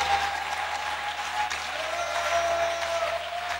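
A church congregation applauds steadily, a dense wash of clapping that holds at an even level for a few seconds, with a faint tone running underneath and no speech on top.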